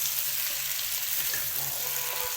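Round-sliced potatoes for aloo karahi sizzling in hot oil in a pan, a continuous bright crackling fry with small pops, close and steady throughout.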